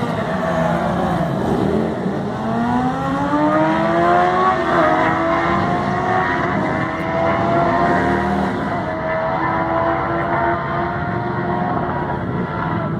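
A cruiser and a sport bike drag race at Great Lakes Dragway, engines roaring loudly as they accelerate, with rising, shifting whines that sweep up and down through the gears, close and sustained.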